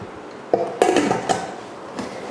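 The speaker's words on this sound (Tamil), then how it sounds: "இப்போ குக்கர் மூடி போட்டுடலாம்." A metal lid is set onto a pressure cooker during mutton curry preparation: a few sharp, close metallic clanks and knocks in quick succession, with no talking.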